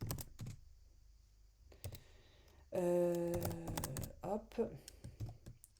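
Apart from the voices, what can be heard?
typing code on a computer keyboard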